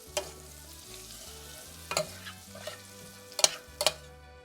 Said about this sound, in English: put in our onions. And we're gonna get these sauteed till they're kind of translucent